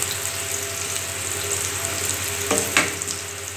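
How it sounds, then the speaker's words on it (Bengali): Potatoes fry in oil in a pan for a vegetarian alur dom, a steady close sizzle under a low hum, with a couple of brief stirring scrapes near the end. "আলুটা ভাজা হয়ে এসছে, হালকা লাল লাল করে ভাজবো"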